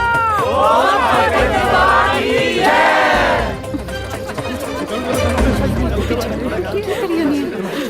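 In a Punjabi comedy film scene, a group of people loudly shouts a jaikara chant in unison for a few seconds. Lively crowd chatter and movement follow at a lower level.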